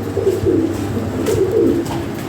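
Lahori Sherazi pigeons in a breeding pair cooing close by, two rolling low coos in quick succession, loud and clear with no talk.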